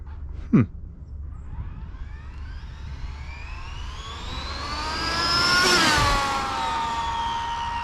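An Arrma Infraction S6 V2 RC car motor whines up in a long rising pitch at full throttle on a straight road, swelling louder as it nears, then the tone cuts off and dies away.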